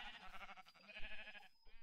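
Sheep bleat in the video game Minecraft, several wavering cries following one another in quick succession, fairly close and clear, with no talking over them.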